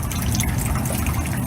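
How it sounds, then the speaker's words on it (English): Steady artificial rain pours down over the plants of an indoor rainforest garden, a dense continuous hiss of falling water that stays loud and even throughout, with no voices. "Miss Rabbit flips a switch and turns on the rain."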